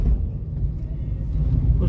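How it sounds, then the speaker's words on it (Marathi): A truck hauling sandalwood logs drives along a road under construction near a new cement stretch, giving a steady, close low engine rumble that holds for the whole two seconds. "बघा पुष्पाचा ट्रक चाललाय पुढे"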